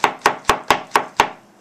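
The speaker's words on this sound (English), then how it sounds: "Now I'm chopping mushrooms." Six sharp, evenly spaced knife strokes chop mushrooms on a cutting board at close range, each one a crisp thud with a short decay and no voices.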